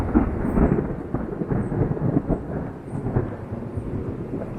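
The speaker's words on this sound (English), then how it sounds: "it started raining on me" Rolling thunder rumbles steadily outdoors with rain falling, a continuous low, loud roar lasting throughout without speech, near a car being fitted with a stage 2 clutch and lightweight flywheel.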